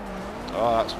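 A 1959 Cadillac drifting in a racing game, its engine droning steadily as a rising tire squeal swells in the middle and then fades, with a voice talking over it.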